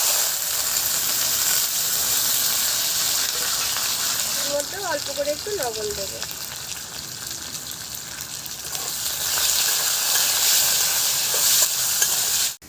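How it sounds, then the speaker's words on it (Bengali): Small diced potato pieces fry in hot oil in a pan, giving a steady, close sizzle that runs throughout while someone talks briefly over it. "ওদিকে আলুটা ততক্ষণ ভাজা হচ্ছে"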